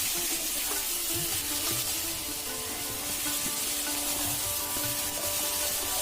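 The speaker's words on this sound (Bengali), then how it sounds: "এবার মুগ ডাল মশলা আর মাছের মাথা সব কিছুকে একটু ভাজা ভাজা করে নিচ্ছি" Mung dal, spices and a fish head frying in a pan, a steady close sizzle with a spatula scraping and rubbing against the pan throughout.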